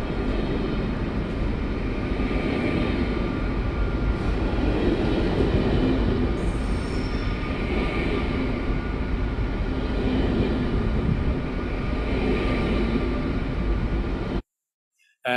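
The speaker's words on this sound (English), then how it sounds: "One is of a big international train passing that is quite" A big international train passes in a looped recording, a dense, continuous heavy rumble and rolling roar with faint squeals, steady and loud for the whole stretch before cutting off abruptly near the end.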